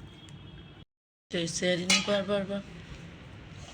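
Steel plates knock together in quick succession: a cluster of bright, ringing metallic clinks after a brief silence, close and fairly loud, with faint room noise and no speech over them.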